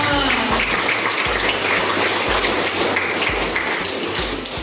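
An audience at a school orientation event claps in steady, dense applause, with faint rhythmic thumps running underneath.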